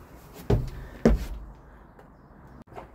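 Storage drawer in a lawn care van being pushed shut, giving two sharp close knocks about half a second apart followed by a faint softer bump, with no speech.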